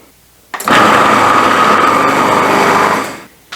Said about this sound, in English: I'm just gonna add the lid on this and blitz this for about a minute or two, just until everything incorporates